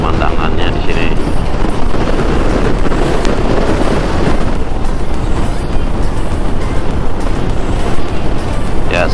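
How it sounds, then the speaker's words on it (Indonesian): Strong wind batters an outdoor microphone on a hill by the Mandalika circuit, a loud, constant low rumble with gusty buffeting throughout. "sedikit angin kencang ya teman-teman"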